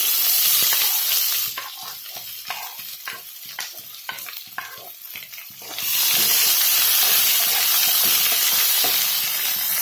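Onions frying in hot oil for an Assamese mutton curry, a steady close sizzle and hiss that drops back as the cold onions hit the pan, then swells to a loud, even roar again.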